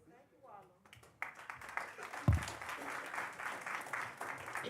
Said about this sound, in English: please, in the future, no clapping